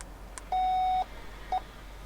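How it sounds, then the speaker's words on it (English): A Ford Transit (2013–2021) sounds electronic beeps during spare key programming: one steady half-second tone, then a much shorter beep a moment later, both faint against a quiet background hiss. "Heard a beep."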